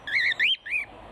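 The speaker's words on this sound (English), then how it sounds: "This is the first batch of quail that Blanc and..." Quail chicks close by giving three clear, high chirps in quick succession, each a short rising-and-falling whistle against a quiet background.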